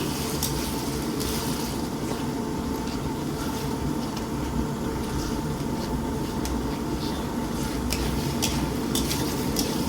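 Pepper, cucumber and garlic powder cook in a pan with a steady, close sizzle and scraping stirring clatter that runs continuously without any talking.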